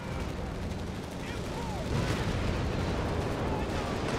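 Whiz-bang artillery shells firing in the Company of Heroes 3 video game on a 4v4 map, heard as a dense, continuous roar of gunfire and explosions, loudest in the second half.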